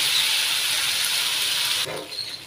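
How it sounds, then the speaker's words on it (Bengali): Tomato paste sizzling hard in a hot pan, a loud, close, continuous hiss that drops sharply near the end, as if the heat or stirring changed, with no speech. "টমেটোটা কাঁচা গন্ধ না যাওয়া পর্যন্ত খুব ভালো করে আমি একটু ভেজে নেব এর সাথে"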